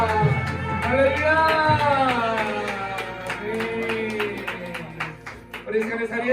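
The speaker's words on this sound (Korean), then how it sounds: "우리의 찬양 받으신 우리 하나님께 영광의 박수 올려드리겠습니다." A church congregation at a student worship service gives applause in rhythmic claps that build up under a sustained voice, then stand out more sharply toward the end.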